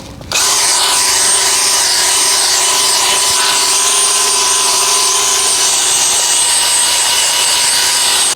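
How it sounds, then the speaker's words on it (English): Drill brush scrubbing car floor mats during a full interior detail, a loud continuous whirring motor whine with a steady scratchy bristle rub, starting abruptly and running close and unbroken. "We're simply gonna drill brush it with this"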